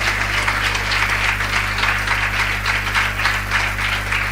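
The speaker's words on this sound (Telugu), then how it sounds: "గట్టిగా చప్పట్లు కొట్టి యేసుకి స్తోత్రం చెప్పండి" A church congregation at a fellowship anniversary service applauds loudly to praise Jesus, producing a dense, continuous wash of clapping that holds steady over a low electrical hum.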